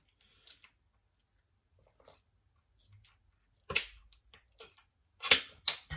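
Clicks and soft gulping sounds from someone drinking out of a child's water bottle: faint scattered ticks at first, then several louder close snaps and swallows toward the end.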